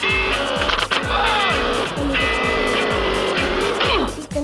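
A sea bike (jet ski) engine in the video game GTA San Andreas drones loudly and steadily, its pitch repeatedly sweeping up and down as it revs, with one brief exclamation from a voice.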